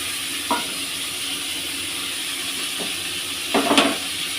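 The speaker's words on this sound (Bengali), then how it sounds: "তেল গরম হয়ে গেছে, আমি এবার মাছ কটা দিয়ে দেবো" Prawns fry in hot oil, a soft steady sizzling hiss broken by a few short bursts of spattering, the loudest near the end.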